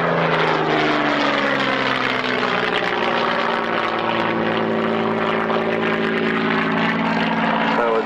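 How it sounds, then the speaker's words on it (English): A Hawker Hurricane propeller fighter at an airshow roars loudly overhead, and its engine pitch sweeps steadily downward as it pulls out and climbs away, with a continuous strong drone throughout. "The hurricane pulls out and away."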